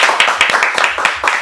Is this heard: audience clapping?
yes